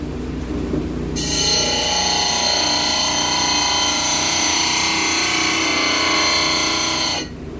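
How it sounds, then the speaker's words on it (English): A grinding wheel cuts a gemstone being shaped into a knife handle, a loud, steady, close-up whine that starts abruptly after a second and runs unbroken for about six seconds before stopping. "I'm going to try to move on to the next wheel because this wheel's cutting kind of slow."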